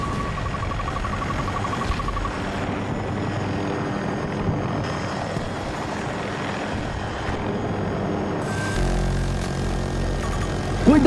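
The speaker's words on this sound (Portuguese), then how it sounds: "Cuidado com o helicóptero!" Helicopter flying in the video game Battlefield 2042, a steady rotor and engine drone filling the scene at constant loudness alongside game effects, with a louder shift in the final seconds.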